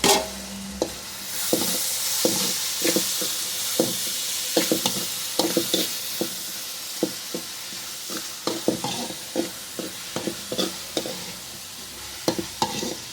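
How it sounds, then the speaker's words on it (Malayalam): Onions seasoned with salt and turmeric stirred as they fry in a pan: a steady sizzle runs beneath repeated sharp scraping clicks of a spoon against the pan, close and clear, with no talking. "ഇച്ചിരി മഞ്ഞൾപ്പൊടിയും കൂടി ഇടുവാണ് എന്നിട്ട് നമുക്ക് ഇളക്കി എടുക്കാം"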